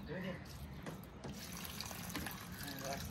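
Water is poured onto a plant outdoors in a steady, close gushing splash that runs evenly throughout, with faint voices beneath it.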